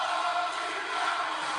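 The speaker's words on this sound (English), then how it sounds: "crowd chanting." Wrestling crowd at AEW WrestleDream 2025 chanting in unison, a steady, dense wash of many voices that fills the whole short stretch at even loudness without breaks.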